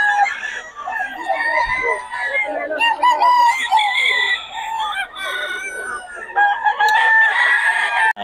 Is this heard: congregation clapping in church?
no